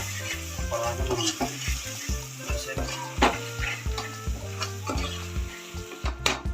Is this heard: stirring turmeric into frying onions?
yes